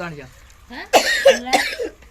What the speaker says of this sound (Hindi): खांसी इधर बहुत हो रही है